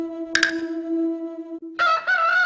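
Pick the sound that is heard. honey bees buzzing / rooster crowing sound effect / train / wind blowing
rooster crowing sound effect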